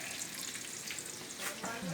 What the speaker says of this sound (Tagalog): At nagpiprito ako ng talong.